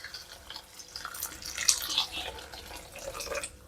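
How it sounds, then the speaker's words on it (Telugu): Water is poured into a pan of meal maker masala curry in a home kitchen, giving a soft, close splashing trickle that lasts a few seconds. "ఇప్పుడు ఒక 2 గ్లాసులు వాటర్ వేసేసుకుందామండి."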